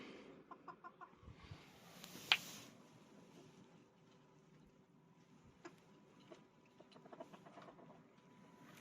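Faint clucks and scratching from bantam hens and a Bielefelder rooster in their pen, scattered soft calls with one sharper squawk, distant and quiet.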